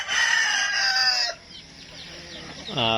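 Bantam chickens, with a rooster crowing loudly nearby, then a quieter stretch of clucking and scratchy farmyard noise before another crow begins at the end.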